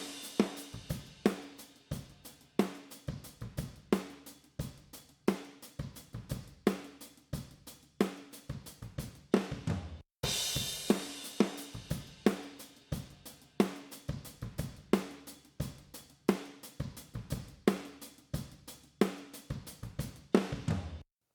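Drum kit overhead microphones play a steady beat twice in a row, first with fast and then with slow compressor release, giving crisp cymbal wash over regular kick and snare hits with no talking.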